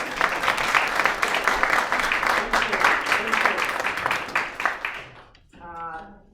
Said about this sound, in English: I want us to please give a round of applause to Heather